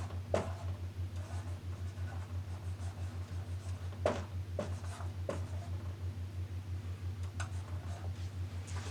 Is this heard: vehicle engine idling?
no